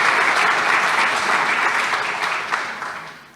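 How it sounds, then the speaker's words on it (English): An audience at a faculty day event gives the presenters a round of applause, with dense, steady clapping from a sizeable crowd that slowly fades out toward the end. "Can we just give our presenters one big round of applause?"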